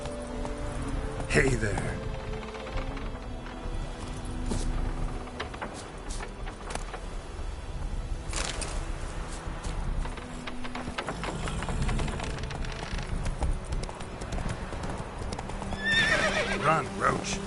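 Roach the horse in The Witcher video game gallops with rapid clip-clop hooves and several whinnies and neighs, close and loud, while someone speaks briefly over it.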